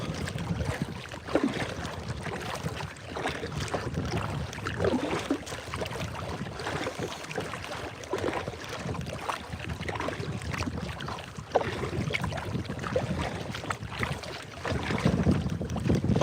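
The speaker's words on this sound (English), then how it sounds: "the wind picked up a little, but it's absolutely manageable" Wind blows steadily while out on a boat, a loud continuous rushing with heavy gusting buffets on the microphone and water motion underneath, with no talk.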